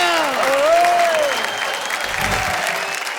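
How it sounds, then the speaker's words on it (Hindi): Audience applause at a Hindi comic poetry gathering (hasya kavi sammelan), a sustained loud round of clapping from a crowd with faint tonal voice traces over it. "बज गई तालियां।"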